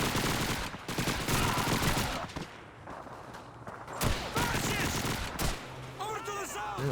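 Gunfire from a Soviet submachine gun in the Call of Duty 2 level 'Repairing the Wire', heard as rapid bursts and sharp single shots over battlefield din, with voices under the shooting.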